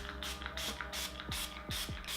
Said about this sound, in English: Just a little spritz of the Catrice Dewy Setting Spray.